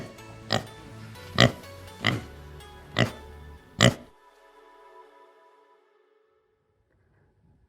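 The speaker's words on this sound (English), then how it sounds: "P for pig." A pig oinks in five loud, short grunts spaced about a second apart, each sharp and close, before the sound trails off into near silence.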